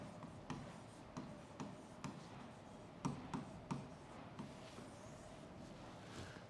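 Marker strokes writing the word leadership on a board: a quiet series of short squeaky rubs and taps at an uneven rhythm over a faint room hiss, close, with no talking.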